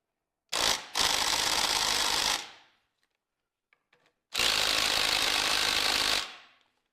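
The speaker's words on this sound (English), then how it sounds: "Normally just hit this with 17 millimeter, crank it down." A 17 mm wrench tightens a part on a GY6 150cc scooter engine, producing two long, loud, steady bursts of rasping mechanical noise, each about two seconds, separated by a quiet gap with a few faint ticks.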